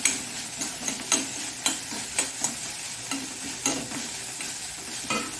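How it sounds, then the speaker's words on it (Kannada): Coriander stems sizzle in a frying pan for Mangalore-style corn cutlets, with a steady frying hiss broken by regular scraping strokes of a spoon stirring about twice a second, close and clear. "ಈಗ ಸ್ವಲ್ಪ ಕೊತ್ತಂಬರಿ ಸೊಪ್ಪಿನ ದಂಟನ್ನು ನಾನು ಇದರಲ್ಲಿ ಹಾಕೊಳ್ತಿದ್ದೇನೆ."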